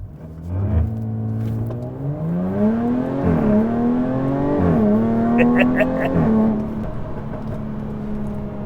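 A 2020 Jaguar F-Type P380 all-wheel-drive Checkered Flag Edition launches hard. Its engine note climbs loudly and close through several rising pulls, broken by brief gear-change dips, before settling into a steady drone.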